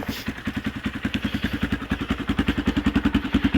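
An old tractor engine runs steadily up close, a loud, rhythmic thumping chug of even, rapid pulses that holds its pace throughout.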